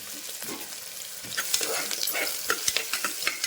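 Green chillies and onions sautéing in a pan with fried spices for white veg kurma: a continuous sizzle broken by repeated spatula scrapes and taps, fairly close, with no talk.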